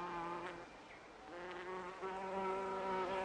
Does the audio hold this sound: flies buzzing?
yes